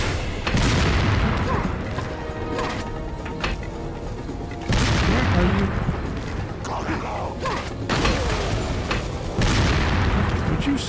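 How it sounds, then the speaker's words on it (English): Dynamite blasts in Resident Evil 4 boom repeatedly, several heavy explosions roughly every few seconds, each with a rumbling tail, amid loud mechanical clatter and gunfire. "Who is throwing dynamite?"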